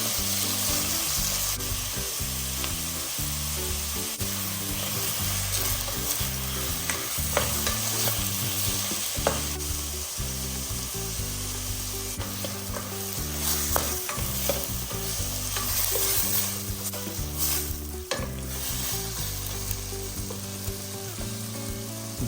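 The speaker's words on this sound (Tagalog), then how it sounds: "isusunod ko naman ngang igisa aring kamatis" Tomatoes sauté in a hot pan for salmon belly sinigang, a loud, continuous sizzle and crackle close by, with occasional stirring scrapes and no talking throughout.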